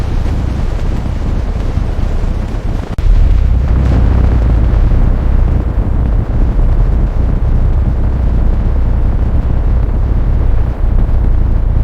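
An Iron Dome interceptor missile launches with a sudden heavy whoosh, then a loud sustained rumbling roar that fills the space and barely fades over several seconds.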